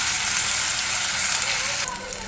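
Ginger, garlic and crushed chilli hit hot oil on a switched-off gas stove, giving a steady close sizzle and crackle that runs throughout, easing slightly near the end.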